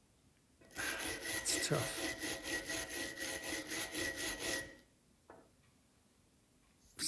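Rhythmic scraping as hard rust is picked off a 270-year-old iron key, about four seconds of quick, close strokes, then a pause and a brief scrape, with a few spoken words.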